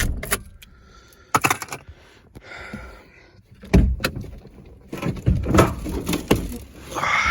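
A car door on a 2008 Ford Focus is opened, giving sharp metallic clicks and clunks, scattered rattles and shuffling handling noises that come close-up and in bursts, with no speech.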